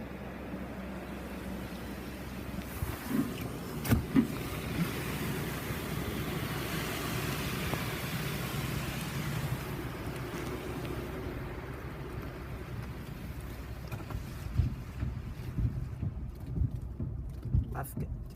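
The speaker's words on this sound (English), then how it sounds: "Now we're getting our spot-free rinse." Spot-free rinse spraying over a car inside a Mark VII ChoiceWash XT automatic car wash at a Shell station, a steady loud hiss of water jets with mechanical rumble, heard from inside the vehicle.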